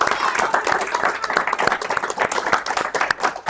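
A seminar audience at a multifamily real estate and finance event applauds for Larry, with quick, crisp claps from many hands sustained throughout at close range.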